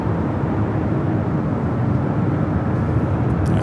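A JetBlue Airbus A321neo airliner at LAX airport makes a steady, loud, broad engine roar that holds evenly throughout, with no talk.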